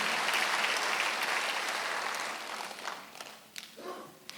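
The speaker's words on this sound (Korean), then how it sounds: "박수 한번 하세요." A church congregation applauds during a Sunday worship sermon, a dense wash of many hands clapping that holds steady, then thins and fades into scattered claps and small noises.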